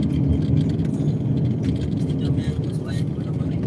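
A car being driven on a long trip, its steady engine and road rumble heavy in the low end throughout, with people talking over it inside the cabin.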